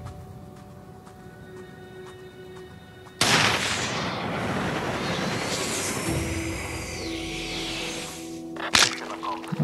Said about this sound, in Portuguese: Deu um tiro na bunda do carro, rapaz